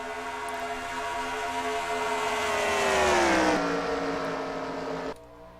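A race car engine on a dyno at a night dyno racing event in Kentucky screams at high revs, its whining pitch climbing and holding loud and close before dropping sharply as it cuts off.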